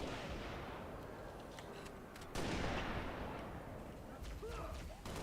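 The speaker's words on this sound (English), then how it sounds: "That was probably my best sniper shot ever." A single sniper rifle shot cracks in Halo: Reach, loud and sudden midway through, then rumbles away into a dense, noisy game soundscape.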